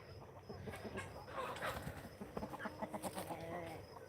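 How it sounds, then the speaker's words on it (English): Chickens, including a new rooster, cluck softly in a farm coop, with scattered low calls over faint background noise. "We're just trying to get the chickens cooped up."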